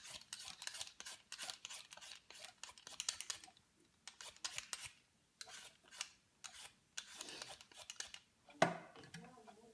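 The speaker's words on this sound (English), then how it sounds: "So, peel your potatoes." Potatoes being peeled by hand for kebabs in pitta, a fast run of short, rasping scrapes in quick bursts with brief pauses, close and fairly loud, and one sharper knock near the end.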